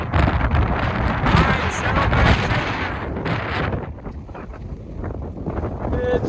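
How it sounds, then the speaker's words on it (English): Strong mountain-trail gusts buffet the microphone in a loud, rumbling roar that eases slightly toward the end, with a voice briefly audible. "It's windy."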